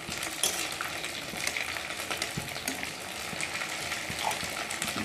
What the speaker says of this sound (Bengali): এক পিঠ লাল হয়ে গেছে, অপর পিঠটাও ভেজে নেব।